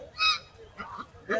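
Geese and Chinese geese at a market honk in loud, close, nasal calls, three short bursts in quick succession with no talk.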